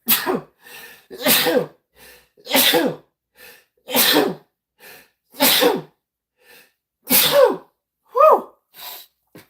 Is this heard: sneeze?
yes